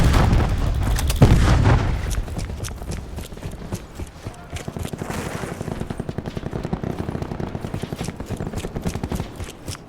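Cluster grenade explosions in Call of Duty: Black Ops 4: a heavy opening blast, then a long, rapid chain of sharp, evenly spaced detonations rattling on at close range.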